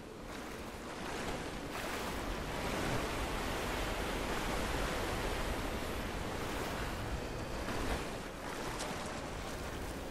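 Steady broadband water wash while swimming in the video game Rise of the Tomb Raider, a continuous surf-like rush that swells slightly in the middle and holds at an even level throughout, with no talking.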